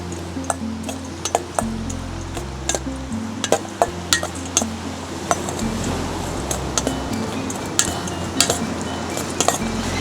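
Spring roll filling ingredients, including a dash of sesame oil, being mixed together in a bowl, with repeated clinks and scrapes of a utensil against the dish over a steady low background hum.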